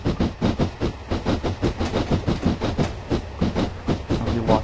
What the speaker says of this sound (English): Our locomotive go past.